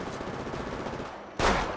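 Gunfire in the mobile battle royale game Apex Legends Mobile: steady game noise followed by a single loud, sharp shot near the end.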